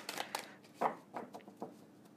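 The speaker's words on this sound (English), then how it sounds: "Just the deck's a bit too thick to shuffle" A thick tarot deck is handled in several short, separate shuffling scrapes and taps, close and fairly soft, with gaps between each burst.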